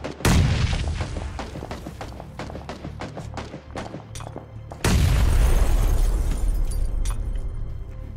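In PUBG, grenades explode with heavy booms amid rapid bursts of gunfire. A loud blast opens the sequence, sharp shots crackle repeatedly, and a second large explosion rumbles near the middle and fades slowly.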